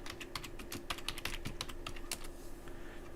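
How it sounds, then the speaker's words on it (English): Rapid, steady clicking of keys on a computer keyboard, close and fairly quiet, running continuously for a few seconds with no talking. "I'm typing as I go along because this is kind of impromptu"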